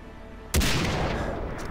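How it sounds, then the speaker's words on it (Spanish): A single loud shot from an AMR anti-materiel rifle in the video game Far Cry 3 cracks sharply and is followed by a long rumbling tail. "El AMR es como el rifle antimaterial."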